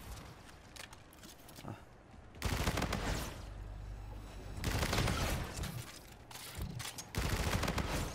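Gunfire rattles through a first-person shooter game in loud bursts, with dense rapid fire cutting in and out between quieter stretches of game ambience, close and punchy.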